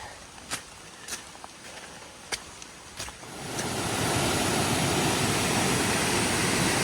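Light footsteps on an Appalachian Trail mountain path give way to a steady, close rush of running stream water that fills the rest of the clip with no one speaking.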